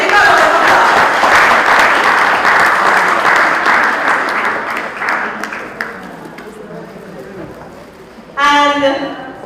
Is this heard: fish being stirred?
no